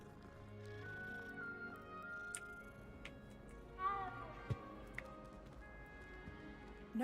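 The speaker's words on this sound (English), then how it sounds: "And sure, I'll pet the cat." A cat meows a few times in the video game Hogwarts Legacy while it is petted, with short soft cries over a steady bed of game music and ambience.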